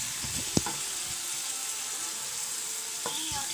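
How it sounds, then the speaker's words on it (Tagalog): Pork browning in a pan for adobo, a faint steady sizzle with a couple of soft clinks of a utensil, heard close and without talk. "Parang priniprito muna yung baboy."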